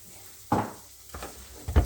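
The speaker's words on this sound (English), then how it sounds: "And we're going to stir that through till the butter's all melted through" A spoon scrapes and stirs a cup of rice through melted butter in a hot pan, three short gritty strokes over a faint background hush.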